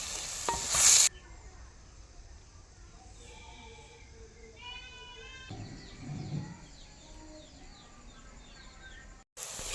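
Onion and tomato cooking down in a pan for gongura chicken, a soft sizzle with occasional stirring scrapes, fairly quiet, with birds chirping faintly in the background and a voice speaking briefly.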